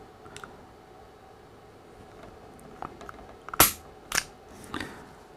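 Bryco Arms J22 pistol dry-fired indoors, its trigger pull snapping the firing pin with a sharp metallic click, followed by a couple of lighter mechanical clacks, close and alone in a quiet room.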